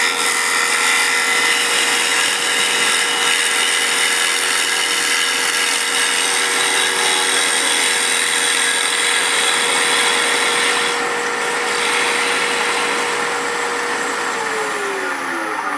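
Lathe turning tool cutting side-grain facework in wood, a steady loud whining, rasping hiss running continuously with slight shifts in pitch as the cut progresses, no voices.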